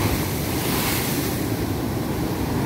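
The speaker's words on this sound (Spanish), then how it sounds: "Esta tarde nos encontramos viendo este precioso atardecer con este fuerte oleaje acá en lo que es la playa de Destino." Strong ocean surf breaks on the beach at Playa El Espino, Usulután, El Salvador, at sunset: a loud, continuous roaring wash of waves with wind buffeting the microphone and no voices.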